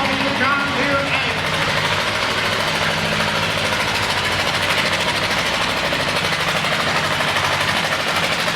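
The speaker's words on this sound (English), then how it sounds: "We have Jake Myers here on the John Deere 8" A John Deere tractor engine idles at a winter tractor pull in Chatham, Virginia, giving off a steady, rough, knocking rumble with a rhythmic mechanical chatter, while a voice speaks briefly at the start.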